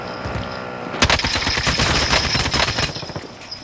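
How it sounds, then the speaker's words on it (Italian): Call of Duty Warzone gunfire erupts after a low rumbling lead-in: rapid automatic bursts crackle densely for over two seconds, loud and close, then tail off into scattered shots. "da sinistra ci sono spari"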